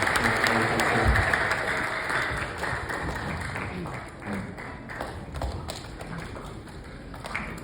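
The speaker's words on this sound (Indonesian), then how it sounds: "Boleh tepuk tangannya sekali lagi buat Mas Haryanto." An audience at an Indonesian talk event applauds the speaker Mas Haryanto, a broad wash of clapping held at moderate level for several seconds and slowly thinning out.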